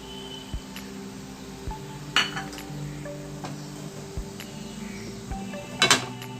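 A metal pan clinks and knocks against a stovetop as it is set down for heating, with a few sharp clanks and scattered light taps over a steady background hum.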